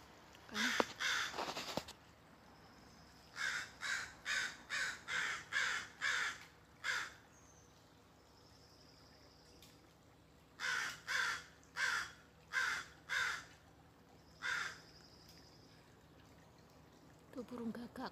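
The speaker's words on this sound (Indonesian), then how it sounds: "Ada burung gagak guys." Crows answer one another beside a rocky river, trading bursts of loud repeated caws separated by pauses, with flowing water faintly underneath.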